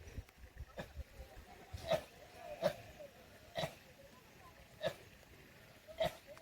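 A sheep in a Bakarwal herd on the mountain heights near Srinagar coughs in a series of five or six short, harsh bursts about a second apart, faint and moderately close, with quiet background noise between them.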